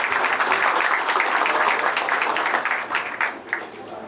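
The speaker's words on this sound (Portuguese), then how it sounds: "Eu queria pedir a todos vocês uma calorosa salva de palmas para o nosso convidado" A lunch audience at a LIDE business event in Salvador applauds their guest, a dense, even wash of many hands clapping that thins and fades toward the end.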